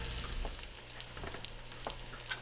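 Sausages fry in a pan on medium-low heat, giving a soft, steady sizzle with scattered faint pops and crackles.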